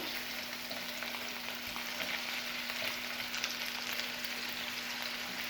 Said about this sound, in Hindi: और इसको मज़ीद 2 मिनट के लिए फ्राई करते हैं